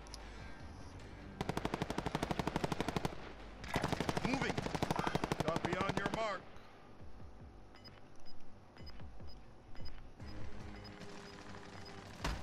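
Rapid automatic gunfire rattles through a video game in two long, loud bursts, followed by scattered quieter shots and clicks.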